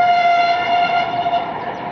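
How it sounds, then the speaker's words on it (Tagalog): A train passes nearby, its steady horn blaring as one long, loud, sustained tone over the rumble of the rails, with no talk. "Ito no, tren."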